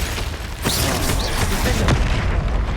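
A Confringo fire spell in the Hogwarts Legacy game lands with a loud, dull boom inside a dense layer of combat noise, with a couple of brief whooshing accents.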